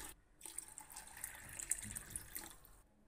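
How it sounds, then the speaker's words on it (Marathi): Water pours into a pot of soaked masoor dal. A faint, steady running splash lasts about two seconds, with no voices. "आता मी ह्याच्यामध्ये ना 2 ग्लास पाणी घालणार आहे"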